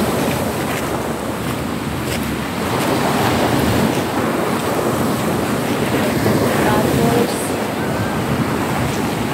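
Sea waves wash onto a shore strewn with drifting plastic bottles, a continuous loud rushing surf mixed with gusty wind buffeting the microphone, with no clear separate breakers standing out.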